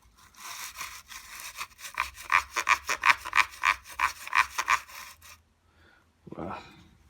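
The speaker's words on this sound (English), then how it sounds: "so I've got a bottle brush here. I'll just give that a poke." A bottle brush scrubs rapidly in and out of a dusty vacuum cleaner port, a close, rhythmic scratchy rasping lasting about five seconds, then a short pause and a brief voice.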